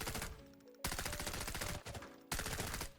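Rapid automatic fire from a VSS suppressed rifle in the shooter game Arena Breakout: Infinite, dense bursts of shots coming in close, loud runs with brief pauses between them.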